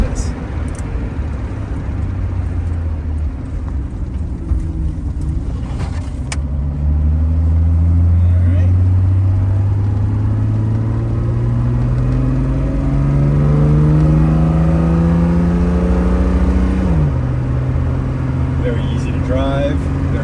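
A 1970 Mercedes-Benz 280SL Roadster drives along, its engine rising steadily in pitch as it accelerates through the gears, then settling back to a cruise, with someone talking over the running engine.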